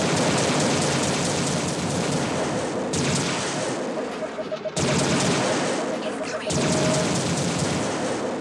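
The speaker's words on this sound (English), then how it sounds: "Wait, what's shooting at me?" Turrets fire on the player in Forsaken Remastered on an asteroid base level, producing loud, continuous rapid gunfire bursts broken by short pauses, with someone talking over it.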